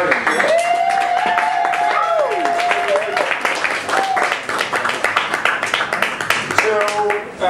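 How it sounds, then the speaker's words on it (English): An audience claps at the start of a cafe event: dense, steady applause runs through the whole stretch, with voices and cheering mixed in over it. "So, clap because it's starting."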